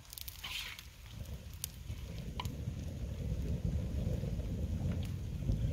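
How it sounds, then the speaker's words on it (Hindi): Light rain patters steadily outdoors at Adishahpur, with a low rumbling bed that suggests distant thunder, building slightly louder toward the end with no talking. "बारिश गरज चमक के साथ आदिशाहपुर में हो रही है बारिश"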